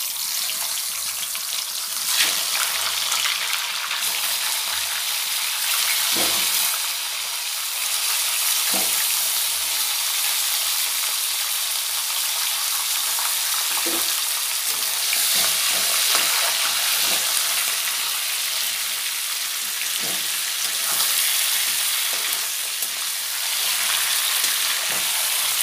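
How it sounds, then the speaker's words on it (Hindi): Fish head frying in oil for a mixed fish head curry, a steady broadband sizzle filling the whole stretch with occasional faint pops and clicks, close and continuous with no talking. "उसी तेल में फिश हेड को भी फ्राई कर लेती हूँ।"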